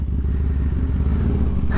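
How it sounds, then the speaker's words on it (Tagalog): Several motorcycles idle together in a busy parking area, a steady loud low engine rumble with clattering texture running throughout, a brief sharper rev near the end. "daming motor. May motor na, may kotse pa sa parking"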